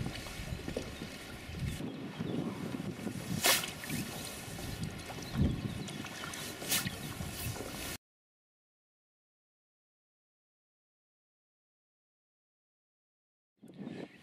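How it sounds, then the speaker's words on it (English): A rowing boat moves on the water, oar blades entering with splashes and dripping strokes amid light wind for several seconds, then silence before a brief return of water noise at the end. "Here we have a piece of footage of Henry rowing in a boat"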